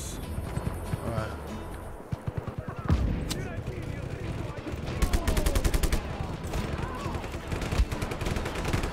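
Cannon and gunfire in the video game Just Cause 3, with sharp loud blasts and rapid bursts of shots at irregular intervals over continuous game noise, with a voice talking briefly.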